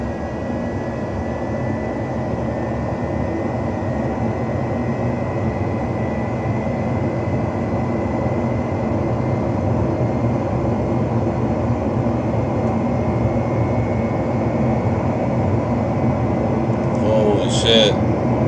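B-2 Spirit bomber engines held at full throttle in a flight simulator game, a loud, steady broadband jet roar that drones on without letup, with a voice briefly heard near the end.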